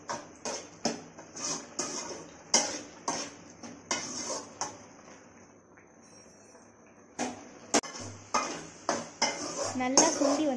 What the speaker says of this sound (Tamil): ஒரு நெல்லிக்காய் சைஸ்க்கு புளி எடுத்து இதில் போட்டு நான் வதக்கிக்க போகிறேன்.